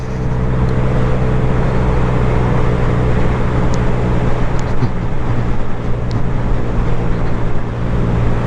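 A 2022 Honda Grom motorcycle runs flat out in fourth gear during a top-speed run, giving a steady, loud, unbroken engine drone blended with rushing wind and road noise, with no pauses or gear changes.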